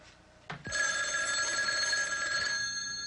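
A telephone bell rings loudly and continuously inside a phone booth, a steady sustained jangle that starts abruptly after a brief knock and holds for about two seconds before easing off.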